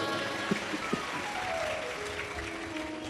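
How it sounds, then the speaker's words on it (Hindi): Listeners at a Hindu religious katha discourse clap together in a soft, diffuse round of applause, fairly distant and steady, with a couple of sharper thumps near the start. "एक बार जोरदार ताली बजाओ।"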